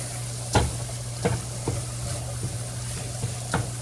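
Stirring in a pan of food for an eggs and bacon bagel sandwich, with a steady sizzle under several soft scrapes and knocks of a utensil, spaced about every second.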